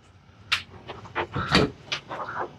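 A closet door in a renovated room on the 12th floor of the Chelsea Hotel is opened, giving several close knocks and creaks with a brief rattle in a quiet room.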